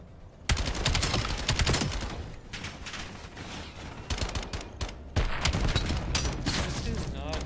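Automatic gunfire crackles in repeated bursts in Call of Duty: Black Ops 7 multiplayer, loud and close, with brief gaps between volleys and someone talking faintly underneath.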